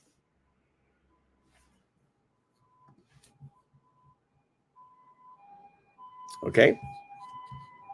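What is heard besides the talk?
ambulance siren passing a house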